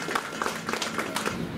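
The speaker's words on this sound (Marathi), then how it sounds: "जोरदार टाळ्या वाजवा" Audience applause at a women's honour award ceremony, a short burst of scattered hand claps of moderate loudness in a hall.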